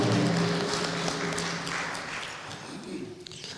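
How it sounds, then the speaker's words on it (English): An audience applauds the newly inaugurated Cowichan Tribes Chief and Council, clapping that starts strong over a brief musical tone and gradually dwindles to scattered claps. "round of applause once again"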